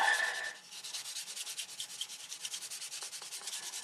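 Steady rhythmic rubbing of a buffing stick smooths a 1/48 scale plastic model of a Gloster Javelin aircraft, with quick back-and-forth strokes heard close and fairly soft, with no voices.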